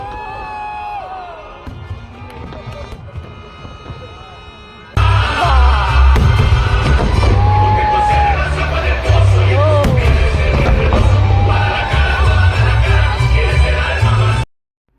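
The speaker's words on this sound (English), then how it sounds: "The total duration of the fireworks is 25 minutes." Fireworks display over English Bay in Vancouver at the Honda Celebration of Light, a loud dense crowd cheering and whooping throughout with booming bursts beneath, after a quieter opening stretch.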